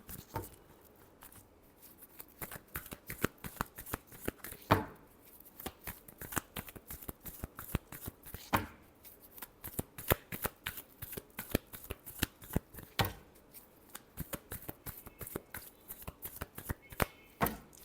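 Tarot cards are shuffled nearby in long, continuous runs of rapid papery flicks and slaps, with occasional louder snaps as the deck is squared, and no voice over it.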